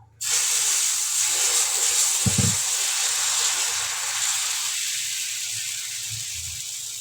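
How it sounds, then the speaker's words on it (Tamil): Dosa batter hits a hot griddle and bursts into a loud, steady sizzle that starts abruptly, then slowly fades while still hissing close up. "இப்போ நான் தோசை தான் போட போகிறேன் தோசை போட்டு எடுத்துக்கலாம்"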